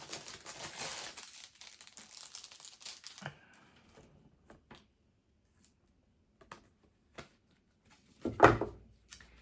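Diamond painting items are pulled out of plastic packaging, with close, faint crinkling and rustling that settles into a few sparse clicks and taps, then a sharper crackle near the end.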